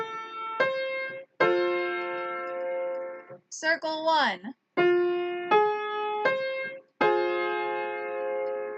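On an ear-training exercise, a sustained major chord is played, followed by a minor chord, each ringing cleanly and clearly. A person's voice breaks in between the chords.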